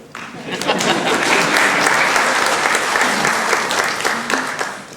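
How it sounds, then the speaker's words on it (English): Audience applause fills a Navy medical laboratory technician graduation ceremony at Naval School of Health Sciences Portsmouth, a steady, dense wash of many hands clapping close and loud for the full stretch, swelling in quickly then holding. "you can applaud for the board"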